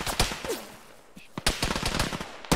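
Rapid bursts of automatic rifle fire crack in a military shooter game, loud and close, with scattered single shots and a lull in the middle.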